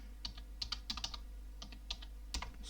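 Quiet typing on a computer keyboard while entering list text in a word processor: a light, irregular patter of individual key clicks, close and soft, over a steady low hum, with no talk.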